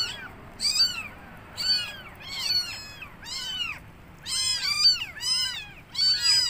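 Kittens meowing outdoors, a run of high, repeated mews in bursts with short gaps, close and clear over quiet background with no talk.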